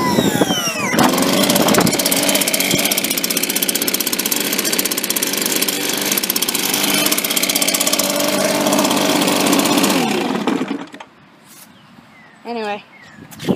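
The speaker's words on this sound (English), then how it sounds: "so yeah, this is a really good blower." Stihl BR 450 backpack leaf blower running loud and steady for about ten seconds with a broad roaring engine drone, then cutting off abruptly, leaving quieter background and a few brief voice sounds near the end.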